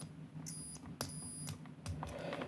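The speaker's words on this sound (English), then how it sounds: "get my meter to beep when there's continuity" Two short, thin high-pitched beeps from a multimeter continuity test on a motorcycle fuse, faint and close, with light clicking and handling noises over a low background hum.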